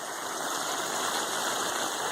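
Water rushes steadily through an overflowing, flooded ditch near trees along a path, a continuous close hiss with no breaks and no talking.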